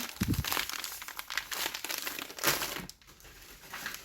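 Plastic shopping bags crinkling and rustling up close, loud and continuous for several seconds, with brief pauses in the crackling texture.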